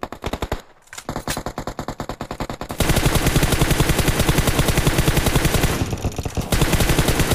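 Rapid automatic gunfire in a video game rattles loudly in close bursts, then becomes a sustained continuous stream of shots.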